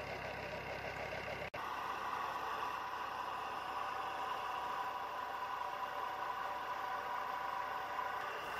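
A tractor engine in Sindh powering a turbine water pump: a steady, close mechanical drone with constant vibration, broken once by a split-second dropout, then running on unchanged.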